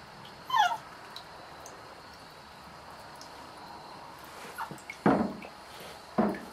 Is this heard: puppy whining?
yes